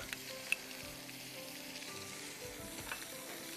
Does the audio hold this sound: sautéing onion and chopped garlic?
yes